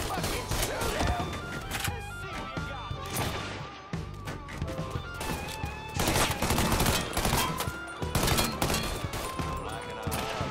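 Heavy gunfire in a Mafia 3 shootout crackles almost without pause, rapid bursts and single shots stacking into a loud, dense barrage with impacts and crashes mixed in, while a shouting voice cuts through the chaos.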